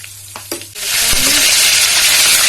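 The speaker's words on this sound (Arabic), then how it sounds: "نقلب كده" Tomato sauce for Egyptian koshari stirred in a pot, a few soft scraping knocks followed by a loud, sustained sizzle and bubbling, close up.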